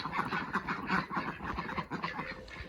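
Ducks in their shelter on a UK smallholding make loud, continuous honking and quacking as a dense, overlapping chorus throughout.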